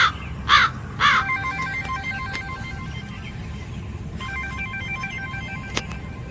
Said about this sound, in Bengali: এই যে 3 নম্বরটায় ফোন করছি।